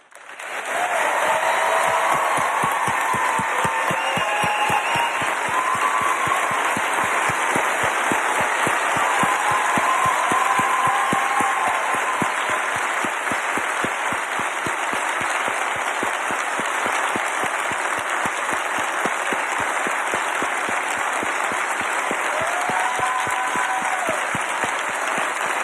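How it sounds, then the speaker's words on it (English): A crowd at a show applauds and cheers, long sustained loud clapping with scattered shouts and whoops over nearly half a minute. "I would ask everybody to cheer these people"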